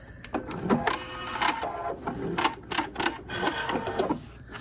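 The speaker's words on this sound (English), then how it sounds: "it's automatically going to lower that foot for me and start sewing" A Viking Epic 980q sewing machine runs in quick bursts of rapid mechanical stitching, close and clear, with short pauses between runs and no talking.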